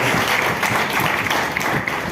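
A congregation at a church service claps together, a steady close wash of applause filling the whole moment without pause.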